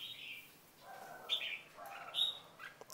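A red-whiskered bulbul from Quảng Nam sings two short, bright whistled phrases about a second apart, moderately close against a quiet background.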